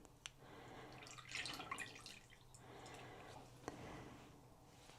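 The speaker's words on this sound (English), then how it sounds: "pour in our wet ingredients." Wet ingredients poured into a bowl of pancake batter mix make soft, faint liquid splashes and drips, with a couple of small clicks against the bowl.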